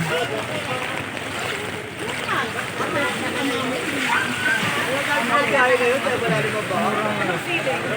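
Floodwater from Typhoon Carina sloshes and splashes steadily around a house, a continuous watery wash with voices talking over it throughout.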